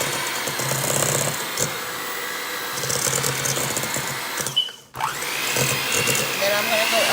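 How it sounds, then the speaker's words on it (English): An electric hand mixer on its lowest speed blends butter and brown sugar, a steady motor whir running throughout with a short dip near the middle, under faint background noise. "So I'm going to blend the butter and the sugar together."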